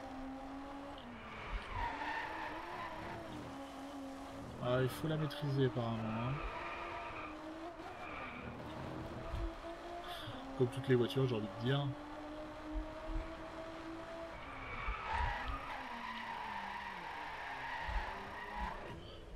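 Tires squeal and skid as a car drifts in the Driveclub racing game in the rain, engine droning steadily with repeated bursts of skidding, while someone talks over it.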